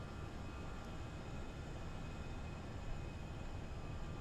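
An FSLabs A320 airliner climbing in a flight simulator gives off a steady, unbroken jet engine roar, a dense even drone that holds at constant loudness throughout with no talking over it.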